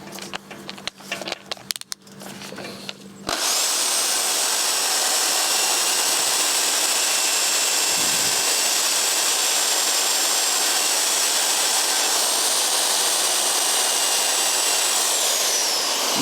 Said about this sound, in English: I'm going to start with the first brushing wheel, which is kind of a 90 degrees brushing wheel.